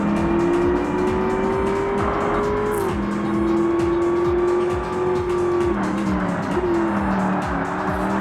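A Ford Mustang race car in the 2005 Forza Motorsport video game drives with a loud, continuous engine drone that rises and falls through gear shifts, accompanied by faint tire squeal.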